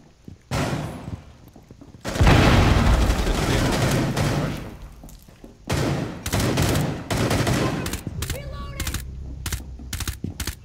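Gunfire and explosions in a Rainbow Six Siege bank hostage team deathmatch: loud, choppy bursts of automatic fire, one long heavy blast-like stretch, then rapid repeated volleys near the end.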